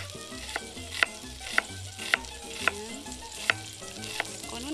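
Onion sautés in melted butter in a pan with a steady close sizzle, broken by regular sharp knocks as it is stirred. A voice speaks briefly.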